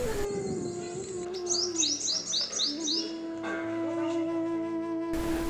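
Birds in Indian Punjab call in a quick run of repeated chirps over a steady tonal hum, with cooing notes low beneath, moderately near and continuous.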